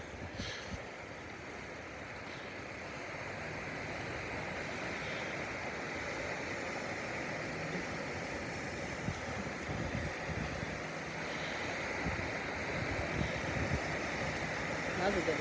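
Pacific Ocean surf along the Northern California coast near the San Andreas fault rolls in as a broad, continuous wash of breaking waves mixed with wind rumble, steady and fairly distant.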